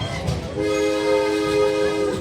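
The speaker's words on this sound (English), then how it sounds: "There goes the train whistle." An antique train's whistle at Cooperstown, New York sounds a long, steady multi-tone blast, loud and sustained over low rumbling noise.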